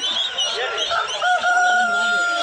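Desi hens and roosters crowing loudly at a poultry market, the calls harsh and drawn-out, with clucking and overlapping bird voices throughout.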